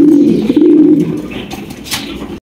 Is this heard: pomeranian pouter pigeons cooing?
yes